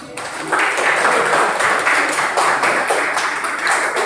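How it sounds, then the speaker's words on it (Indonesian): Classroom students applaud a presenting group during a religious-studies teaching practice lesson, a steady, fairly loud wash of clapping that swells after a brief quieter start and holds for several seconds with no talk over it. "kembali tepuk tangan"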